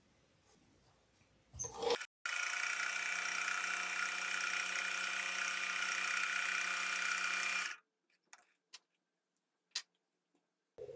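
A sewing machine runs a quarter-inch seam joining 4.5-inch quilting fabric strips, a steady close whirring hum lasting several seconds, followed by a few soft clicks and handling noises, with no talk.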